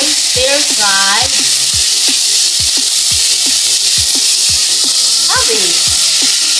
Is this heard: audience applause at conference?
no